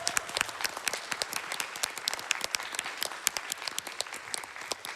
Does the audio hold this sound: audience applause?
yes